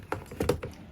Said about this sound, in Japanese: もともと使ってるこのロジクールのキーボード